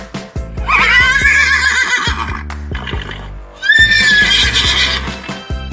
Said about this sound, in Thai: เป็นเสียงของม้า